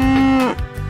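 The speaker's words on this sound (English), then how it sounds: "cow," A cartoon cow lets out a single close, loud moo with a steady drawn-out pitch that drops at the end, followed by a brief rumble, and nobody speaks.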